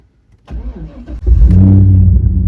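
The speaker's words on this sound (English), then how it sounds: "I'm gonna start the car." A starter motor cranks briefly before a manual-transmission car engine catches and settles into a loud, steady idle, close by.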